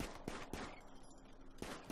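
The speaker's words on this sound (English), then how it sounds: "we're going to hear a lot of gunshots this episode" Gunfire from colonists hunting in the colony-building game RimWorld: a quiet, distant string of sharp shots, several spaced cracks at irregular intervals over a low background, with no talk.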